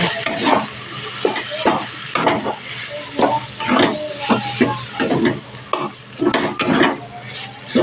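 Ground spices, garam masala and chaat masala stir-fried in a pan for aloo chokha, with a continuous close sizzle broken by frequent rhythmic spatula scrapes and knocks against the pan.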